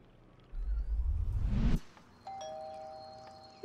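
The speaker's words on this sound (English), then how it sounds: "Knock or ring the bell." A doorbell rings at a house door in the game Little Misfortune. A low rumbling thud comes first, then clear sustained chime tones ring out and linger, close and fairly loud, with no talking.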